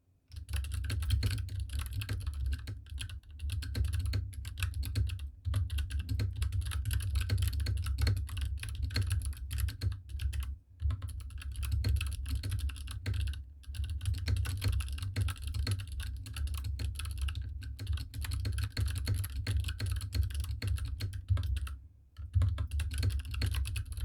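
Rapid, steady typing on a Keychron K6 mechanical keyboard with clicky Kailh Box Royal switches, a dense stream of crisp clicky keystrokes with brief pauses, close and continuous.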